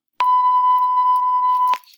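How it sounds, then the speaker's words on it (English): A single steady electronic beep, loud and close, holding one pitch for about a second and a half before cutting off. "all I have to do if I want to have a little beep is click this"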